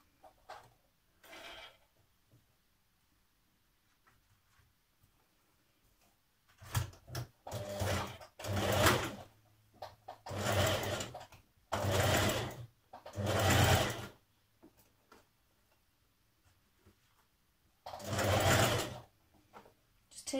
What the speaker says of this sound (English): you can stitch your bodice to your skirt